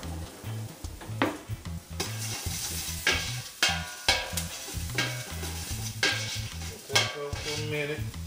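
Ginger and garlic sizzle in a hot pan on medium-high heat while a utensil stirs them, scraping and clinking against the pan in an irregular rhythm over a steady frying hiss.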